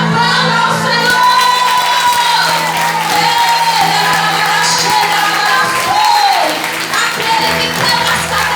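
A church congregation at a women's gathering applauds and cheers for several seconds, with dense clapping, whoops and shouts filling the room while sustained music and a voice carry on beneath.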